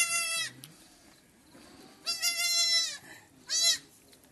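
A Beetal goat on a farm bleats three times, with a long gap after the first call and a shorter one before the last, each bleat clear and fairly close over a quiet background.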